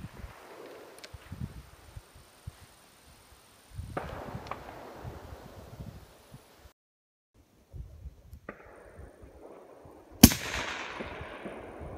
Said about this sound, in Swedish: Riktigt bra skott.